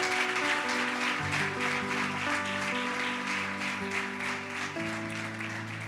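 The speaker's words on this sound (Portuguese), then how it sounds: "Aplauda o Senhor." A church congregation claps for the Lord in a steady, dense wash of applause under sustained keyboard chords.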